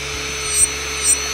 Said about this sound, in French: je m'approche de l'ongle avec ma ponceuse